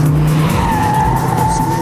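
A car skids with loud, sustained tire squeal during a fast right-hand-drive test lap, the screech close and continuous over the engine's roar.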